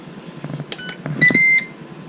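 An air fryer being set to preheat at 400 degrees gives a short run of clear electronic beeps, one brief pair followed by a longer, louder steady tone, with quiet room sound around them.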